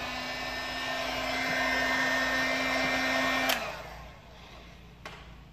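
Heat gun blowing hot air onto vinyl wrap on a car's front grille, a steady close whooshing hum with a faint whine that cuts off partway, followed by quieter room noise and a brief click.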